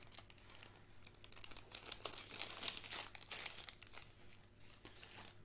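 A Giratina V promo Pokémon trading card being slid into a plastic sleeve, giving a steady run of close, soft crinkling and rustling of plastic over a low steady hum, with no talking.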